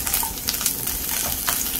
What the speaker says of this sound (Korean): 센 불에서 야채는 볶아주시면서